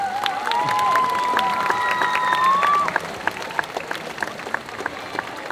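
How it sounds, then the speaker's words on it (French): A cosplay contest audience at a Japan-themed convention applauds loudly and steadily, the dense clapping easing after a few seconds while a tone and faint voices carry over it. "Et donc on peut applaudir très fort donc"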